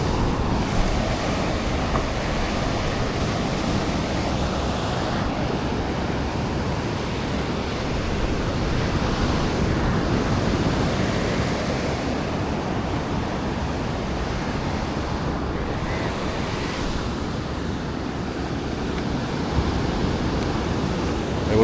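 Sea surf rolls continuously where fishermen row their boats in by oar without engines, a loud, unbroken wash of waves mixed with wind buffeting the microphone.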